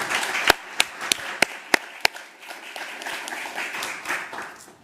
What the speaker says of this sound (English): if we could all give her a round of applause for being our September Employee of the Month